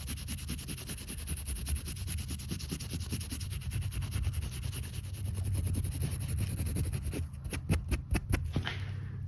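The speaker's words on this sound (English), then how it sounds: "So I'm going to take my little Scotch-Brite with some Brasso and just hit all these high points and clean this up." A Scotch-Brite pad with Brasso rubs the high points of a drawer handle on a side table, producing close, steady scuffing strokes that turn into a few sharper rapid swipes near the end.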